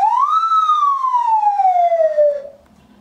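A nose whistle imitating birdsong gives one long clear tone, rising briefly and then sliding slowly downward for over two seconds before stopping, loud and alone.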